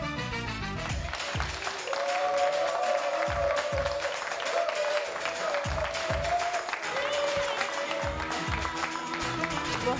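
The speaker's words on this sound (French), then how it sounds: "faire un torrent d'applaudissements pour Paul-Emmanuel" A TV studio audience breaks into sustained applause for a guest on a French evening show, loud dense clapping with rhythmic claps that reads like a cheering crowd, steady throughout and close.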